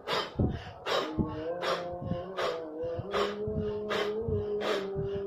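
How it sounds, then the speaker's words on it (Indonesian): A person breathes in deeply and pushes the air out fast, again and again, in a steady rhythm of sharp, forceful breaths, close to the microphone with no talking over them. "ambil nafas dalam-dalam dan lepaskan secepat mungkin ini."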